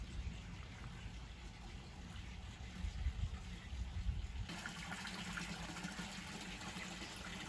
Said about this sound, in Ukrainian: Ось так тут джерела, вода стікає в сторону підзамча